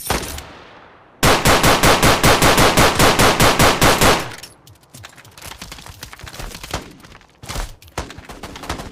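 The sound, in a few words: shotgun gunfire in a video game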